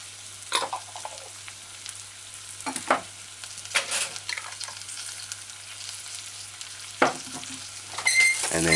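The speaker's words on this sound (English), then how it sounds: "add the chopped onions" Chopped onions sizzle in a saucepan used like a wok for a chicken pepper stir-fry. A quiet hiss of frying runs underneath, broken by a few sharp stirring scrapes. There is no talking.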